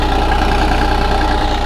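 An excavator's diesel engine runs steadily at a loud, close idle with a rhythmic low throb and mechanical rattle, after repair work on a radiator that was building pressure, with no voices.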